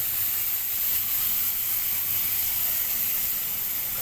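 Kilis fish paste sizzles in hot oil with masala, a steady close hissing fry that holds evenly throughout.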